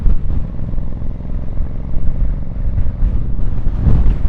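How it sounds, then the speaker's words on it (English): Strong wind buffets the microphone at the crest of a steep hill, a loud, continuous low rumble with gusty surges and no break throughout. "Oh, windy. Real windy. Kind of blew me around."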